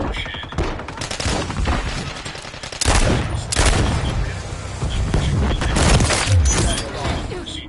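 Dense, continuous gunfire from the video game Call of Duty: Modern Warfare 3: rapid automatic bursts overlapping with heavier booms and thuds, loud and close throughout, with faint game voices mixed in.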